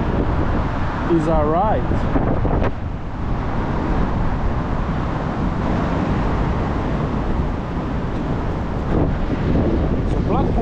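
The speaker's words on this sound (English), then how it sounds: "It's windy" Wind buffets a microphone at the Blackpool seaside in a loud, continuous low rumble that roars throughout, while people talk briefly over it.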